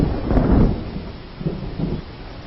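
Thunder rumbles low and fairly close in a rainy film scene, one deep swell of storm noise followed by a couple of softer rolls with a hiss of approaching rain.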